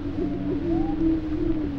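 Low, hollow booming notes of a male prairie chicken repeat over a steady drone, a soft resonant cooing sound rising and falling several times, moderately loud and unaccompanied by speech.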